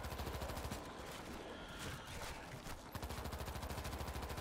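Zombies being shot with a gun in World War Z, a rapid, continuous automatic-fire rattle of dense regular shots, close and steady throughout, with no speech over it.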